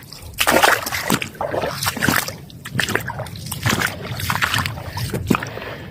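Sea water splashing and sloshing by a shore, with broken, irregular bursts of water noise that stay steady and close throughout.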